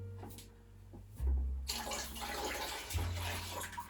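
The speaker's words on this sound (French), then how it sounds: "et je vais verser tout doucement." Water poured slowly into a small vessel during home beer brewing, a soft splashing trickle that starts quietly and swells into a steady gush, heard alone and close.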